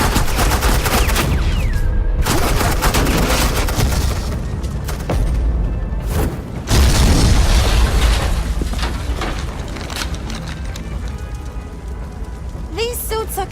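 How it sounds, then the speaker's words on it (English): Gunfire in Batman: The Telltale Series, dense and rattling beneath a loud, continuous mix of booms and hissing noise, with brief breaks and a voice near the end. "I said suppressing fire!"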